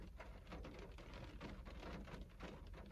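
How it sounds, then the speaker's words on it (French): Steady rain falls continuously, a dense, even patter on surfaces heard quietly and alone without any voices. "Et là, il pleut."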